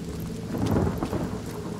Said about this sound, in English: Need to make it rain.